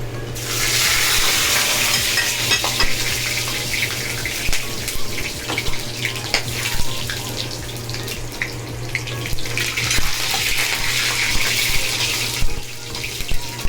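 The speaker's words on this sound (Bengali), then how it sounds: "আদরক লসুন পেস্ট নুন আর এই যে ঘি দেবো লাস্টে এক চামচ গরম মশলা দিয়ে দিলাম তেলে" Ginger garlic paste, salt and garam masala frying in hot oil for prawn malai curry, a loud continuous sizzle with stirring scrapes and a low steady hum underneath, no talking.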